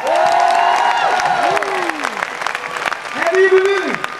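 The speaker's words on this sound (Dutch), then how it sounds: "Applaus voor deze Heerenveen nogmaals" Crowd applause and cheering at a CD presentation by a band, claps and shouts under loud sustained voices singing or chanting, with a whistle-like sliding tone rising and falling.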